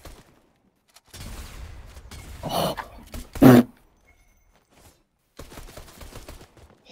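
Gunfire in the Fortnite video game, a few sharp bursts scattered across the moment with a loud close shot near the middle, separated by quiet gaps.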